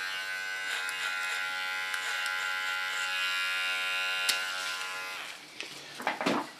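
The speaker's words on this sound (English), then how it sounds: "Use my clipper as a comb." Electric hair clipper buzzes steadily close up as it runs over a woman's head, a continuous harmonic drone with small shifts in pitch as the blades move through hair, roughening near the end.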